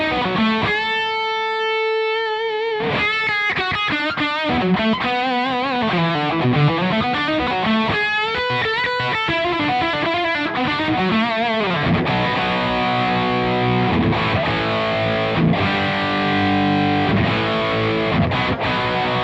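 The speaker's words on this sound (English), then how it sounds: "if you're buying a Soldano, you're probably more interested in the overdrive tones" An electric guitar played through a Soldano SLO 100 amp on its overdrive channel rings out in saturated, sustained chords and melodic runs, loud and continuous with rich distorted harmonics.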